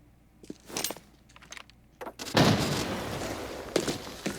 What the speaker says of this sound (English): See if I can throw a nice little nade.